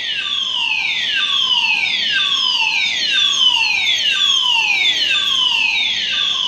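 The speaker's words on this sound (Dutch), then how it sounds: "Vol met sirenes." Emergency vehicle sirens wail at a Luxembourg train station and airport parking area, a loud, continuous cycle of repeated downward-sweeping tones with no voices.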